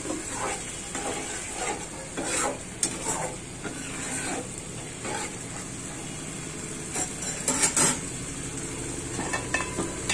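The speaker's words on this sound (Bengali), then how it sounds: "মশলাটি, একটু ভালো মতো কষাবো।" Spice paste sautéing with a little added water in a pan, a moderate steady sizzle broken by repeated scraping stirs of a utensil and occasional metallic clinks.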